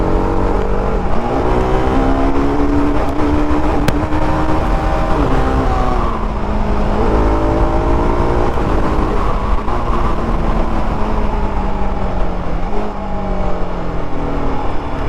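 A TVS RR310 motorcycle ridden on a Bengaluru road with the throttle worked, its engine note droning loud and steady, pitch rising and falling through revs and gear changes with no talking.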